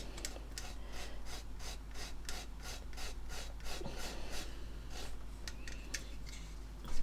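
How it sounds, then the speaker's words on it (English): A plastic model rubbed with 240 grit sandpaper gives soft, rhythmic scratching strokes, close and fairly quiet, repeating evenly at about two per second over a low background hum. "And I'm going to start sanding."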